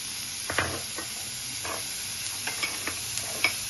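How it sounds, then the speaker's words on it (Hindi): Mushroom, cucumber, onion and bell peppers sauté in a pan with no oil, a faint steady hiss broken by intermittent scraping taps of a spatula stirring. "जैसे हमारी सब्जियां थोड़ी सी सॉटी हो जाए"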